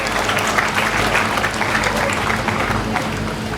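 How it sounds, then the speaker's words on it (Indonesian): Loud, dense applause fills the hall from a large audience at an Islamic boarding school graduation ceremony for junior and senior high students and Quran memorizers, a steady roar of clapping throughout. "tepuk tangan dulu semuanya untuk santriwan dan santriwati."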